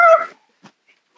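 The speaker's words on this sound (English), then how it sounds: "it's a kitty baby" A kitten gives one short, bright meow at close range, then a few soft, faint sounds follow in a quiet room.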